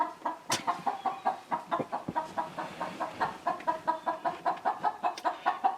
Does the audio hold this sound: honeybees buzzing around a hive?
no